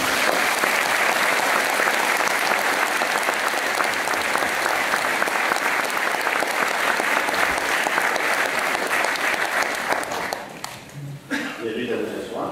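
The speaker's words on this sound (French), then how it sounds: "Applaudissons, nous sommes d'accord." Congregation at a mass for sea workers applauds, a long, dense wave of clapping that fills the church, then breaks off near the end as voices and movement take over.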